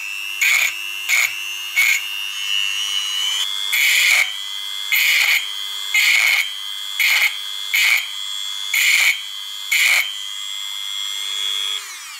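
A power drill boring holes in aluminium, running in about nine short bursts of steady high whine, close and loud, with brief quiet gaps between them.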